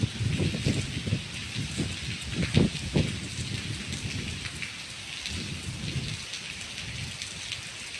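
Steady heavy rain pours down throughout around a hilltop temple pavilion in Thailand, with low rumbling thunder rolling in the first few seconds before easing into a constant downpour.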